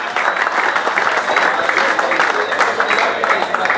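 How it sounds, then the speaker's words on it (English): At an over-50s Caribbean Cup cricket award ceremony, a crowd gives the umpires a loud, steady round of applause, with close, continuous clapping throughout and a faint voice mixed in. "Big round of applause."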